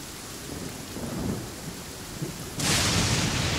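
Thunder in a video game: a low rolling rumble builds and fades, then a sudden loud burst of heavy rain-like noise takes over and holds steady to the end.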